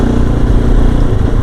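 A Kove 450 Rally motorcycle with a Stage 2 power-up engine runs loud and close, a dense, rough, steady mechanical roar with no speech.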